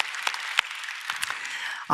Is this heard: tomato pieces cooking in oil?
no